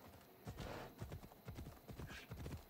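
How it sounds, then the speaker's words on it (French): Horse hooves clip-clop at a gallop in a video game, with a steady rhythm of soft thuds over a noisy background, fairly quiet and with no speech over them. "Quel plaisir de piquer un petit cheval gratos."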